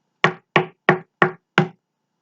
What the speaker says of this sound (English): So in the end, they both knocked together.